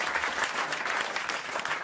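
Studio audience of a French radio comedy panel show applauding, a dense steady patter of many hands clapping throughout, fairly close and even in level, with no talk over it.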